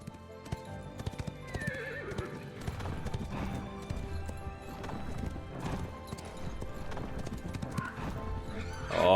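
Horse hooves clip-clop steadily in the online game Ashes of Creation while the rider climbs a volcano, with occasional neighs and whinnies over a busy layer of game music and ambience.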